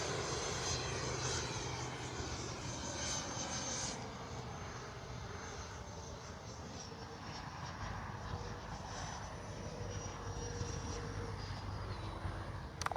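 An FMS Super Scorpion V2 RC jet cruises past slow and low with flaps down, its whining ducted-fan roar loud at first, then easing off and holding steady as it moves along.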